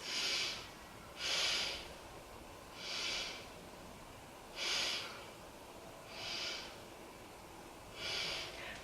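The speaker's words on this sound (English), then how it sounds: "Take 3 breaths." Breathing during a yoga side plank: six slow, audible breaths spaced about every one and a half seconds, each a soft airy rush, close and fairly quiet with no talking.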